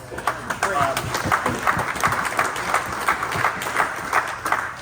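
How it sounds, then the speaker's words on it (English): Audience applause at a golf tournament fundraiser for pediatric tumors, steady clapping from a crowd lasting throughout with voices talking and cheering over it. "So give yourselves a big round of applause"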